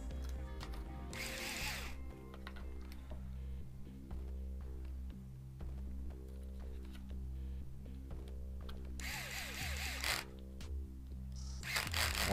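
Screws being driven to fasten a motor mount plate onto an Arrma Grom RC car, heard as a steady run of close, repeated whirring and clicking mechanical bursts with no talk.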